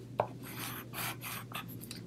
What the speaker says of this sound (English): I usually just use the edge of my scissors if you want to get a really good fold on there, good crease